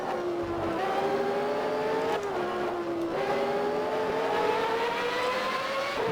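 Benetton Formula One race car engine in the GP4 racing game, a loud continuous high-pitched whine that climbs steadily through the gears, with brief dips at each upshift and no talk.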